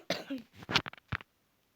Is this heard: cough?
yes